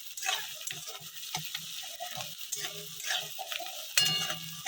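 Onions fry in a pan on a home stove with a steady close sizzle, broken by scraping stirs and light clatters of a spoon against the metal.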